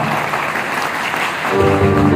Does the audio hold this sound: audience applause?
yes